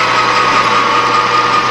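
Loud, steady high-pitched whine of a lathe running as it roughs down a piece of aluminum stock toward a half-inch thumbscrew, with no talk.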